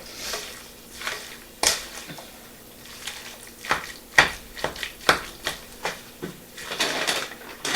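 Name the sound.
stirring the loaded potato casserole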